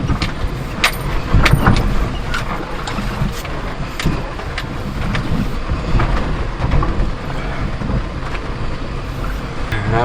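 A mini truck drives through mud and ice, giving a loud rumbling, churning engine and a series of sloshing, crunching knocks as it pushes through, with uneven surges in loudness.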